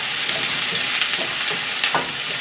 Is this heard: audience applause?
no